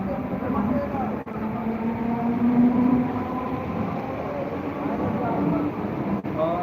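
A train arriving at Nerul railway station rumbles and rolls along steadily with a low droning hum, voices murmuring faintly in the background.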